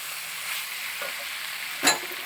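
Cauliflower being stirred in a hot frying pan while making a vegetable kurma, with a steady soft sizzle and one brief sharp scrape near the end; no voices.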